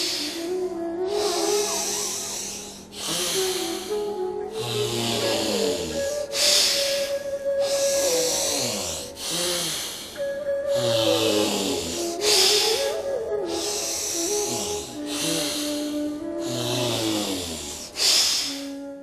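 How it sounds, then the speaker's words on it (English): Alternate nostril pranayama breathing, with slow, loud nasal inhales and exhales alternating in a steady rhythm of long hissing breaths close to the mic, over a faint tonal background. "Close the left nostril and exhale through the right."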